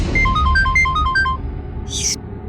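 A phone ringtone plays a quick repeating electronic melody of short two-tone beeps and then stops, heard close over low background rumble, followed by a brief bright chime.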